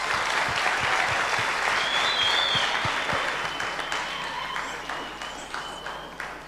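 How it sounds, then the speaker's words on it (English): An audience at a digital rights discussion event gives a round of applause, loud dense clapping at first that gradually thins and fades with a few distinct claps near the end. "can we give ourselves a round of applause"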